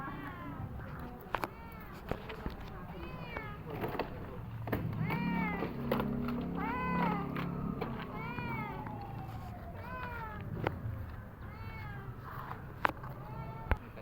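Several caged cats in Caloocan City meowing repeatedly, overlapping drawn-out cries and wails at close range over a low background hum, with occasional faint voices.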